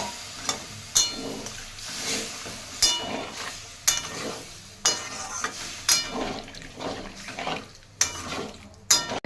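Potatoes and water going into a pan of simmering spices, with repeated stirring scrapes and watery sizzles in a steady rhythm, close and fairly loud.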